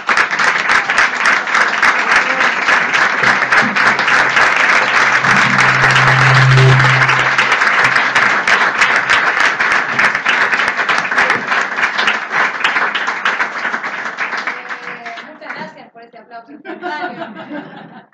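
A large lecture audience at a philosophy and art dialogue applauds loudly and steadily for most of the stretch, with scattered chuckles, before the clapping thins out and fades near the end.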